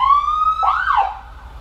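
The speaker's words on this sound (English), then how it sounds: "So then you have your siren amplifier here, which is a Whelen product." An ambulance siren driven by a Whelen siren amplifier sounds close and loud, holding a steady tone before abruptly switching to a quick rising-and-falling yelp.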